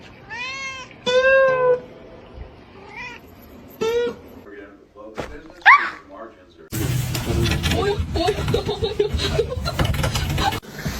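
A house cat meowing close by, several drawn-out rising meows in the first half, then a noisier stretch with chuckling and other sounds.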